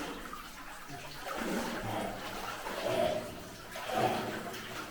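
Water trickles from the roof deep inside an abandoned ironstone mine at Kettleness, North Yorkshire: a faint, continuous watery wash that swells and fades in soft surges.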